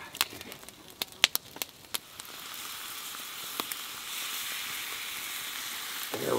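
Fish cooks on a hot rock at a wilderness campsite, a soft, steady sizzle with a few sharp crackling pops early on, faint and close with no talking.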